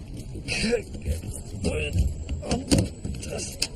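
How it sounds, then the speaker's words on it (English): Keys jangle close by while someone fumbles to open a car boot, metallic rattles and clinks in short bursts mixed with the sounds of people talking over them. "Having trouble with the keys. Can't get them in the boot."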